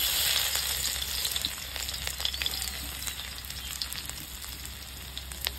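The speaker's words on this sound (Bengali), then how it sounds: "পেঁয়াজ, আদা, এই পেঁয়াজ, রসুন আর লঙ্কাটা ভেজে নেব" Onion, garlic and chili fry in hot oil with a loud, continuous crackling sizzle. Sharper pops and a little stirring come through, with no talk.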